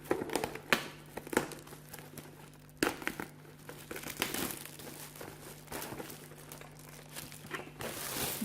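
Crinkly plastic wrap being cut and torn off a Pokémon Charizard EX collector box, a run of close, loud crackling rustles with a few sharp tearing bursts and no talk.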